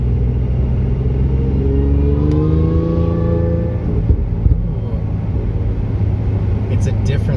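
Car engine fitted with a Magnuson TVS 1740 supercharger revving on a thawing road after a deep cold snap, a loud deep intake rumble with rising tones as the revs climb, then settling back to a heavy drone.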